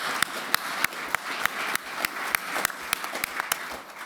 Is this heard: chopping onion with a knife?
no